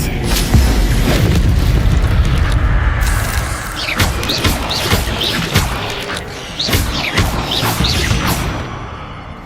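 A booming spell impact from Expelliarmus in Hogwarts Legacy: loud, dense rumbling bursts and crashes with a few sharp magical zaps layered over continuous game effects, no speech.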